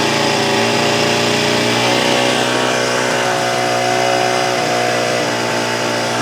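A small French front-wheel-drive Velo Vap moped engine runs steadily up close, a loud continuous buzzing drone with a slight waver in pitch and no break throughout.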